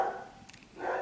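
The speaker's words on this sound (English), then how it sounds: "the bad dog is barking" A dog barks twice, one bark near the start and another near the end, moderately loud with a short quiet gap between them.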